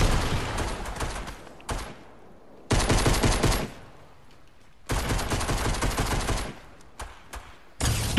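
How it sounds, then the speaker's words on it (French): Rapid automatic gunfire in a Fortnite battle, loud sustained bursts of shots separated by brief quieter gaps, with no voices over them. "il y a un mec là-haut en train de me tirer dedans. Regardez, il tire à travers les construits"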